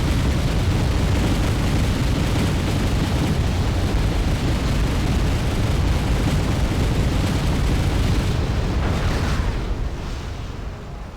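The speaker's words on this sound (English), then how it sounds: "Vulcans are opening fire." Vulcan guns and explosions roar across a burning battlefield in the war strategy game Wargame, a loud, dense, continuous wall of rumbling fire and blasts that tapers off slightly at the end.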